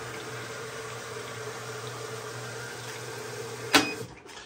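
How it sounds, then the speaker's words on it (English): Cold water runs steadily into an Amana washing machine with a constant hiss and low hum, then a sharp knock or clunk near the end before the flow sound drops. "I can see the cold water is coming really good."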